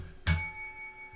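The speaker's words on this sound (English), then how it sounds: "You get the bell because you're here first." A single bright bell strike rung to greet the first viewer on a livestream: one sharp ding followed by a clear, slowly decaying metallic ring, heard alone in a quiet room.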